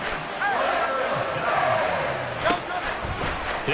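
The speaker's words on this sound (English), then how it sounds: "This crowd turning up the decibel level." Football stadium crowd during an NFL game with the Dolphins, a dense, continuous roar swelling and holding loud with scattered shouts, heard close and filling the space.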